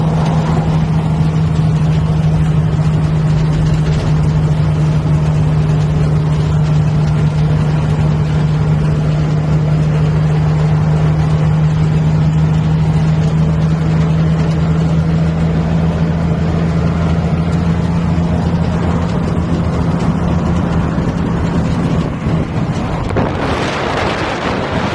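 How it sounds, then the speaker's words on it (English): A 1962 Mexican-spec Plymouth Savoy drives steadily with a low, droning engine note and road rumble, recorded loud and close with no talk, and the sound surges briefly at the end. "Please enjoy this video of the car driving."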